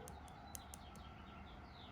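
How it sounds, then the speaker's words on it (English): Faint birds chirp in the distance, a quick run of about five high tweets followed by a few softer calls over a steady background hiss. "You hear the birds?"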